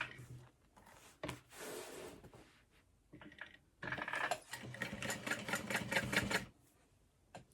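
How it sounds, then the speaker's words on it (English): A sewing machine stitching a seam on an Erica Bowler bag, short bursts of rapid mechanical chatter, a brief run then a longer steady stretch near the end, close and fairly quiet. "now we're going to sew up to that line and back down."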